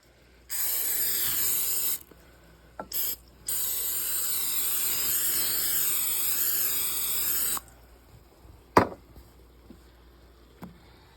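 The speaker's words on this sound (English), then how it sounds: "Spray your baking dish with non-stick cooking spray." Bursts of non-stick aerosol cooking spray hiss close up onto a baking dish: a short spray, a brief puff, then a long steady spray, followed by a couple of light clicks.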